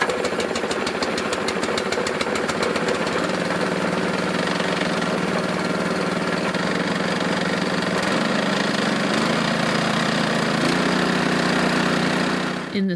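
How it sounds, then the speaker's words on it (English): A boat's small compressor, freshly refuelled, runs steadily and loudly throughout, with a continuous mechanical drone. Partway through, its pitch steps up a few times as it settles into running. "See if this compressor starts up."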